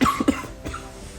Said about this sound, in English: And I'm also coughing.